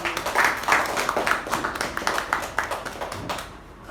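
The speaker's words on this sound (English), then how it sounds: "A huge round of applause for both the speaker and the evaluator." An audience applauds a speaker and evaluator at a Toastmasters-style meeting. The clapping is steady and fairly close, made of many overlapping hand claps, and fades slightly near the end.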